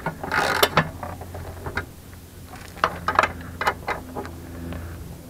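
A hand tool tightens a bolt into the rear axle of a Rover 216 GTI, giving irregular clicking ratchet bursts and metallic scrapes close by, with pauses between the turns.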